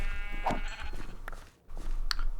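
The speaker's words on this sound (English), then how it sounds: "Now, I hate to take these sheep out, but I do need the wool." A sheep in a video game set on black ice bleats a few times over a steady background hum, with short, separate calls and a brief quiet gap.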